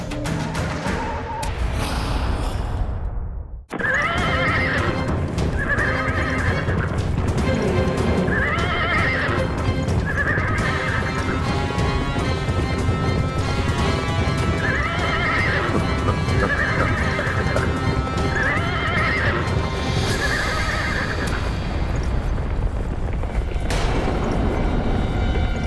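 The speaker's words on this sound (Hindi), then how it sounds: "रथ की गड़गड़ाहट रुक गई।" Horses neigh repeatedly over a heavy rumbling chariot and steady clopping hooves on a mythological battlefield. The sound is loud and continuous, with a short drop in the rumble near the start.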